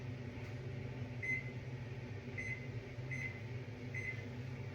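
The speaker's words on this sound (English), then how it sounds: "So I'm going to put the timer on anyways." Several short electronic beeps from a kitchen oven timer being set to 25 minutes while sourdough bread bakes, spaced about a second apart over a steady fan-like hum.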